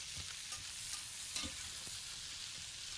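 Cabbage stirred through bacon drippings in a frying pan, a steady close sizzle with soft scraping strokes of the spoon recurring every half second or so, no voices.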